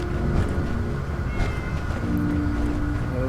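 A cat meowing in the video game Fallout 4, with drawn-out harmonic mews over a steady game soundtrack, fairly loud and close.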